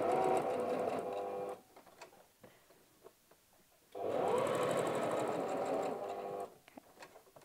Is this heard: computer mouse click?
no